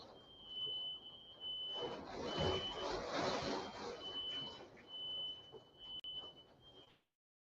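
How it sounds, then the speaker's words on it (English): A household smoke alarm sounds a steady, piercing high-pitched tone, triggered by cooking in the home, running continuously for about seven seconds beneath indistinct talking and noise, then cutting off. "my damn smoke alarm going off"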